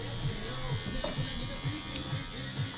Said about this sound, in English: So the clipper's going to go in, got a nice tight tension. I'm just going to peel.